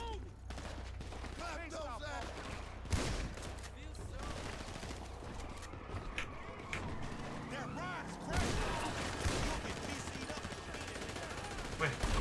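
Gunfire in the video game GTA V, scattered shots and bursts under a continuous game din, with people talking over it throughout.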